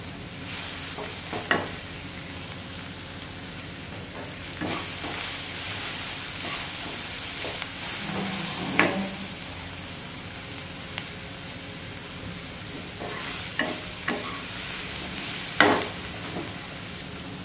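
Dosa masala is stirred and fried in a pan with turmeric and salt, giving a steady sizzle with intermittent scraping stir strokes, close and moderately loud, with no talking.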